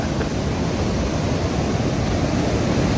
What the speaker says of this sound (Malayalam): വെള്ളത്തിൻ്റെ സൗണ്ടോണ്ടേ കൊണ്ട് നമ്മൾ ഒന്നും കേൾക്കുന്നില്ല